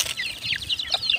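Pet baby chickens in a small backyard coop peep in a busy run of high, thin chirps, close by and fairly soft, with overlapping calls and a faint low rustle beneath.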